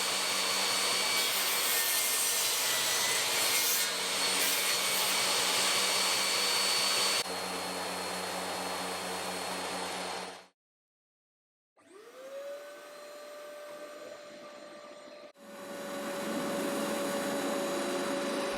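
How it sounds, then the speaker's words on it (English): A power drill whirs steadily through wood, boring oversized holes for a woodworking vice's axles and screw, stopping briefly before a second, higher-pitched spin-up and another sustained run of drilling. "I am drilling the holes a bit oversized to leave enough space for the axles and vice screw."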